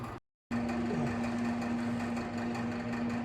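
A power tool cuts a straight section of exhaust pipe for a BMW E46 convertible, a steady droning whine that starts abruptly after a brief silence and runs unbroken at close range.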